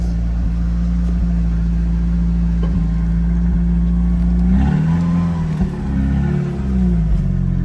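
A 1993 Eagle Talon, stuck in second gear with no clutch, is push-started: a loud, low engine hum holds steady, then the motor catches and revs up and down for a few seconds.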